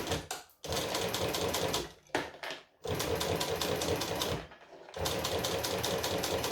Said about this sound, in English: So we're stitching, we're back stitching.